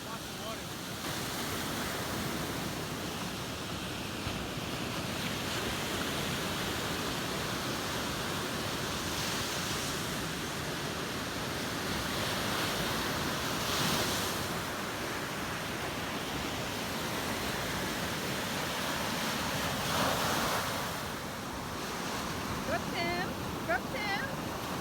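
Ocean surf breaking near the shore during surf fly fishing for shad and striped bass: a steady, loud wash of white water and rolling waves, with a few swells rising above the constant roar.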